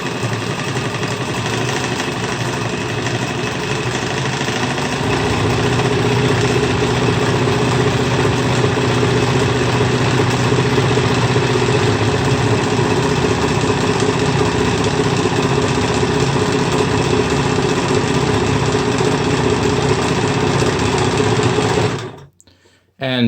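A Nelco N15 sewing machine, also sold as the Penncrest P1, runs a zigzag stretch stitch with a loud, steady motor whir and rapid needle clatter for about twenty seconds before stopping abruptly.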